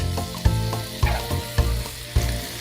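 Chicken sizzles steadily in a little vegetable oil in a preheated Dutch oven on the stove for white chicken chili. Regular louder clacks of stirring land about every half second over the constant frying hiss.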